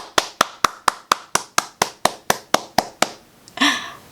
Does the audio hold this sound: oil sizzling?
no